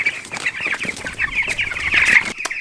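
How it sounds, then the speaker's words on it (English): Backyard chickens clucking in springtime, a busy overlapping chatter of close, fairly loud clucks and squawks from several birds with no talk. "Silly chickens."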